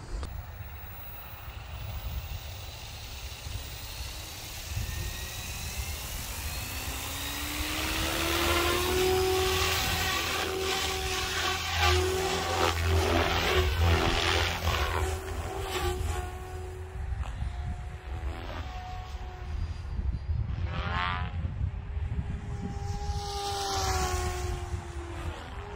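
A Protos 380 radio-controlled helicopter flies outdoors at an RC field, its whining rotor and motor rising and shifting in pitch as it swoops and passes at varying distance, moderately loud with no talking.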